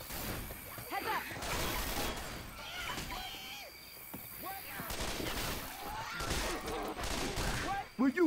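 Sustained automatic gunfire in Left 4 Dead 2, a dense stream of shots with occasional crashing impacts, loud and near, while players talk over it.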